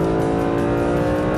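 Mercedes SLS AMG Black Series engine revving hard on a race track's main straight, a loud, continuous high-pitched engine howl climbing toward the top of its rev range, heard from inside the car.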